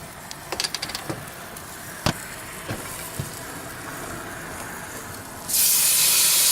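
A loud, steady fizzing hiss bursts in near the end as beer is poured onto a salted steak frying in a covered pan, after a few soft clicks and taps.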